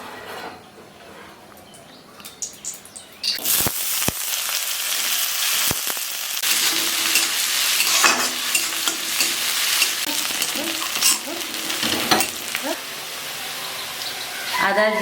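Oil sizzles and spits steadily in a pan where fried snails and chopped onion are being cooked for a village-style Bengali snail curry, with a few sharp utensil knocks and stirring scrapes over the continuous frying hiss.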